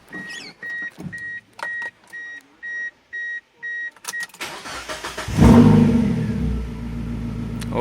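Mazda MX-5 Miata with a new exhaust and no muffler, first a run of rhythmic electronic beeps, then the engine catches and revs loudly, a rough, raspy roar that swells and holds near the listener.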